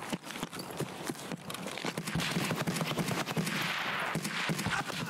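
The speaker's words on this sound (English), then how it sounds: "hip firing is so difficult with this gun" Rapid bursts of gunfire from a gun in Escape From Tarkov, hip-fired in a firefight, with sharp repeated cracks spread across the span over steady background noise.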